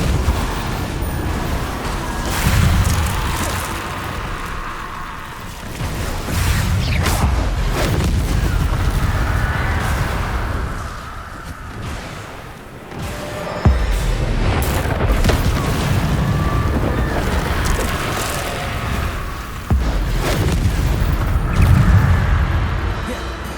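Spell effects from the Hogwarts Legacy video game, including a Depulso push spell, arrive as a series of heavy booming bursts and blasts. The impacts come in repeated surges over a continuous rumble, loud and up close.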